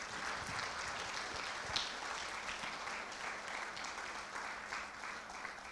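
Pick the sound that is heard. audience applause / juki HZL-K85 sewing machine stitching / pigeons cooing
audience applause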